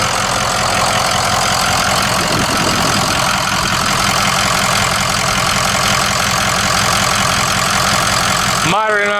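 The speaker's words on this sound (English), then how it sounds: "This motor produces 310 horsepower and 560 foot-pounds of torque. Runs very smooth." A 2004 Ford F350 Super Duty dually with a Powerstroke diesel, K&N cold air intake and original turbo idles steadily with a low rhythmic clatter. The sound is close and continuous and ends abruptly near the end.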